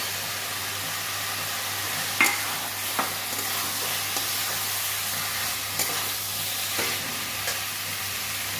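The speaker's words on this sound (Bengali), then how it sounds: "এবার আমি ফুলকপি আর আলু দিয়ে দিচ্ছি।" Cauliflower and potato tossed into hot spiced oil in a pan, a loud continuous close sizzle with a few brief clinks of the spoon, steady with no talking.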